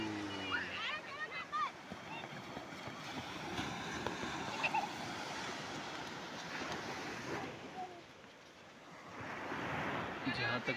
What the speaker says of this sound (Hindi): हम लहरें मेरे पास आ रही है अभी।